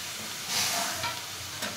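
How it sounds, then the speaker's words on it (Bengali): Peeled, fire-roasted eggplant fries in a pan with onion, green chili and spices, a close steady sizzle with a few stirring scrapes over about two seconds. "এই বেগুনটাও আমি 5-7 মিনিট ভেজে নেব।"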